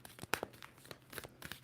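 Tarot cards being shuffled, a run of quick papery riffles and snaps in short bursts, fairly close and quiet.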